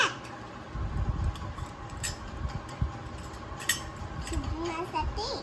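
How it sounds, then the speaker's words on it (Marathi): A metal lid is set onto a cooking pot on a home stove, giving a few faint, light clinks and taps over quiet kitchen background. "झाकण लावूयात"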